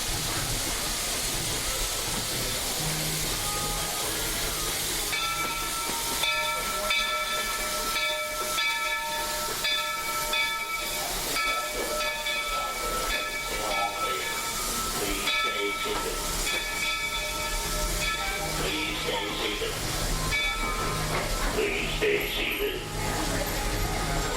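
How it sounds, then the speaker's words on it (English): A Walt Disney World Railroad steam train rumbles and hisses steadily as it arrives at Fantasyland Station, with whistle-like tones and mechanical clatter, while a voice makes an announcement over it. "the Walt Disney World Railroad is now arriving at Fantasyland Station."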